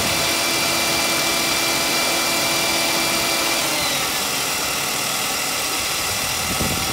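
A Mercedes ML320 engine with freshly replaced spark plugs idles smoothly and steadily up close, a continuous even hum with faint vibration and no talking.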